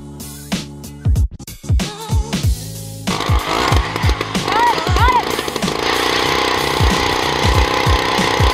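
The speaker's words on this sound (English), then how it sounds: "I'm just drilling holes" Ice auger drilling holes through lake ice while ice fishing, starting with short bursts and pulls, then settling into a continuous loud buzzing motor whine that runs to the end.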